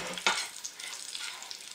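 A spoon stirs a homemade scented candle mixture: one sharp clink against the container, then soft, quiet scraping and swishing for a moment.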